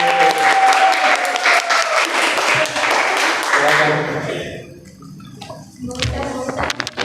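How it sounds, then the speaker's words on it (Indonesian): An audience claps in loud, dense applause for about four seconds before it fades out, followed by scattered claps and a voice speaking. "Boleh tepuk tangan buat."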